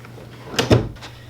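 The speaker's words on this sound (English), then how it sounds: "Open a drawer." A dresser drawer slides open and bumps shut in a couple of quick knocks, close and fairly loud over a quiet room.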